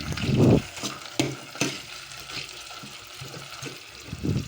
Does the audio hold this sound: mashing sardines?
yes